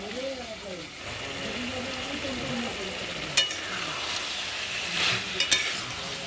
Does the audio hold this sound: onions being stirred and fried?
yes